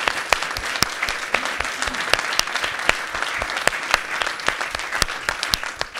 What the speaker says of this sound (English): we all together join in a big, big clap to TIUK and TIUS for organizing this session